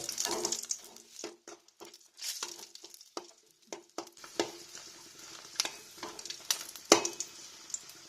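Sesame seeds roast in a pan, giving sparse, irregular crackles and soft scraping stirs against near silence, close by and with no talking.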